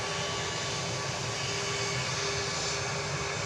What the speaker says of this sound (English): No, that was an Airbus A321